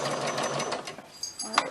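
A sewing machine back stitches while sewing a pencil bag, with a fast, even mechanical whir that slows and stops, followed by a few faint clicks.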